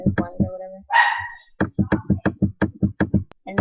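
Dogs bark in a rapid run of sharp, close barks, a dozen or so in quick rhythm after a brief pause, with a higher whine-like yelp in between.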